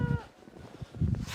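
Goats on a homestead calling out loudly, females in heat crying for bucks, with a couple of drawn-out bleating calls near the start and end, close by and unaccompanied by talk.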